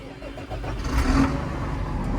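A Massey tractor engine cranks and catches, rising into a steady mid-pitched idle rumble during a 2024 bean harvest, close and fairly loud with no talk over it.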